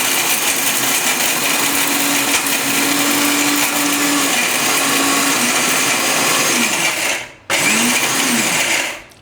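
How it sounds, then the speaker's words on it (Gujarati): A mixer grinder whirs loudly and steadily while grinding asafoetida (hing) into powder, its motor pitch wavering as the jar is turned, then briefly cutting out and restarting before winding down near the end. "લગાતાર મિક્સરને ફેરવતું રહેવાનું એમ"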